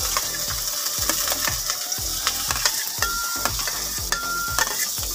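Onions frying in a pan for a quick Maggi noodle dish, a steady sizzle broken by repeated metallic scrapes and clicks of a utensil stirring against the pan, close and fairly loud.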